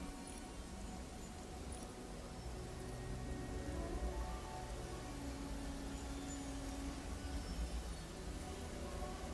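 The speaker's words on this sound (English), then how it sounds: "sounds like it's raining right now" Steady, faint rain hiss from the game Infinity Nikki, a soft continuous patter with no talking over it.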